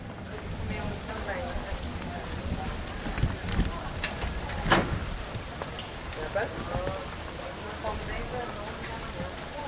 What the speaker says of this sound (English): It was not easy because the tropical rain and there was water coming from everywhere.